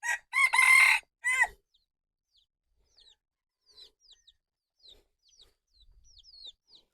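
A rooster lets out one loud, close crow at the start, followed by faint scattered chirps of small birds in an otherwise quiet outdoor setting.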